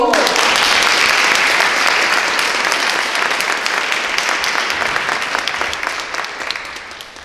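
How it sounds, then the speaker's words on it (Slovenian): An audience applauds loudly at a book launch evening about memory, a dense, steady wash of clapping from many hands that slowly tapers toward the end. "Iskrene čestitke in glasen aplavz za Nikovo knjigo"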